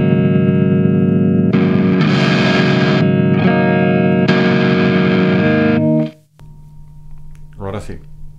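Distorted electric guitar chords through a Boss DS-1 distortion pedal with its level turned up, loud and sustained in several bursts before cutting off, followed by brief talking.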